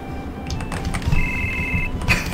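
Cloud's phone rings in Final Fantasy VII: a single short, electronic two-tone ring, clear over the game's soft background sounds and footstep-like taps.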